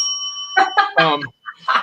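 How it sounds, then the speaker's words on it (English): Bright bicycle-style bell dings ring out several times in quick succession, with clear sustained tones, near and fairly loud. "I guess I'm going to ring the bell for this"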